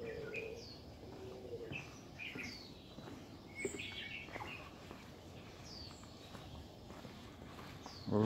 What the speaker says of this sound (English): You can hear all of the birds